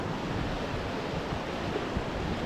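Churning white water of river rapids at Rishikesh roars as a dense, steady wash of noise, close and loud, with no talk over it.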